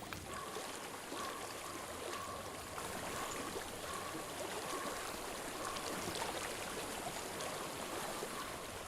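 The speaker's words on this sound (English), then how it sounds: "I hear water." Flowing stream water in the video game Hellblade: Senua's Sacrifice, a steady broadband rush and trickle that continues without a break, with no talk over it.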